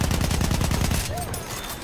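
Battlefield 1 gunfire, a rapid burst of loud close automatic shots in an even rhythm lasting about a second, then stopping abruptly into quieter game ambience.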